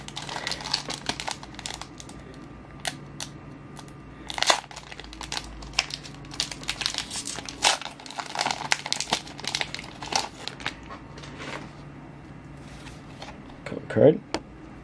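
Crinkling foil of a Pokemon trading card booster pack being torn open and handled, with bursts of close, crackly rustling and crumpling throughout and a few sharper rips near the end.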